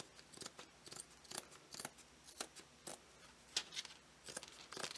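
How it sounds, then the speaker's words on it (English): Close scissors snipping through stiff canvas fabric, a steady run of crisp cuts roughly every half second, with no talking. "And then take your scissors"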